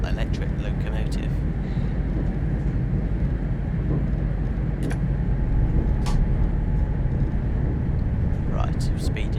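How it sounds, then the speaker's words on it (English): A diesel electric multiple unit train runs on the Crewe to Holyhead line in Train Simulator 2019, its steady engine and rail rumble droning continuously and loudly, with faint brief clicks overhead. "This is actually a diesel electric multiple unit, so it's a bit like the Class 66"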